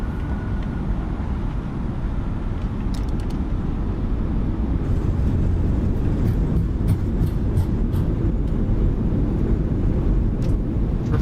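An A32NX airliner in Microsoft Flight Simulator roars with a steady, loud, broadband rumble from its thrust reversers during the landing rollout, with faint clicks near the end and no talking.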